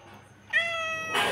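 A domestic cat gives a single drawn-out meow, close and fairly loud, followed by a brief rustle.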